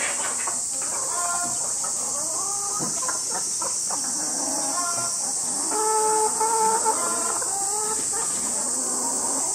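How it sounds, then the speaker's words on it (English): Chickens on an organic egg farm cluck and call in a busy, overlapping chorus, several birds close by, over a steady high-pitched background hiss. "The other chickens, look at them, they're already at it."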